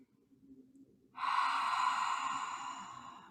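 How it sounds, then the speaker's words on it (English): A slow, deep breath is released during a calm meditation, starting about a second in after near silence and holding as a steady, soft, airy exhale to the end. "Couple more slow, intentional breaths. Cleansing with the exhale."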